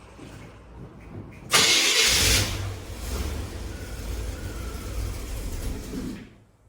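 Chevy 350 V8 starting after sitting for many years: a sharp cranking burst that catches and settles into a rough, steady idle, close and loud, before cutting off at the end.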